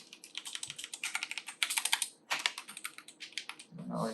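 A gaming keyboard, a Logitech G915 or a SteelSeries Apex Pro, is typed on at close range. The keystrokes form fast, uneven clusters of crisp clicks with a short pause partway through.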